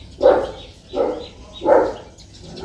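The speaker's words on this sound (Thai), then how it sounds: "สงสัยมีสุนัขผ่านหน้าบ้านนะคะ" A dog outside a house in Thailand barks three times at a moderate distance. The barks are evenly spaced, and there is quiet between them.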